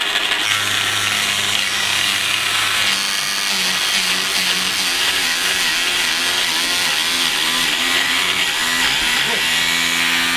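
A saw blade cutting into wood, a loud continuous rasping grind close up, with rhythmic stroke-like pitch changes through the middle and a shift in tone near the end as the cut finishes.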